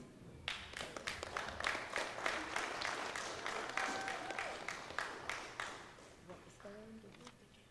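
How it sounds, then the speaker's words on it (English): Modest audience applause at a youth public speaking event, distinct individual claps in a loose rhythm that thin out and fade, followed by a speaker beginning to talk. "one more round of applause for Mr. Christopher Merton"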